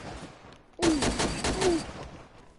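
Gunfire from a sniper in a video game, with a loud sudden burst of shots starting partway in and lasting about a second, then fading back to quieter background.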